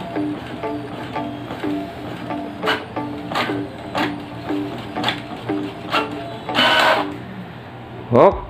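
A Brother DCP-J100 inkjet printer whirs and clicks in a steady repeating rhythm printing a nozzle check as the carriage moves back and forth, ending with a louder mechanical clunk.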